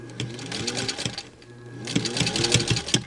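A sewing machine runs in close, rapid stitching bursts through many layers of fabric for decorative cuffs, pausing briefly midway before starting up again at full speed.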